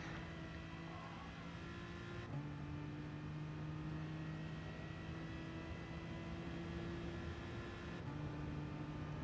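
A V12 race car in Gran Turismo Sport at Monza, engine held at steady high revs with a sustained drone and brief gear-shift dips, loud and continuous with no talk.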